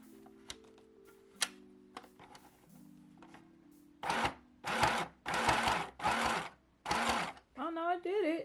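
A small sewing machine runs in several short bursts of fast, whirring stitching near the end, after a quiet stretch of faint ticks and a low tonal hum, with a brief voice at the close.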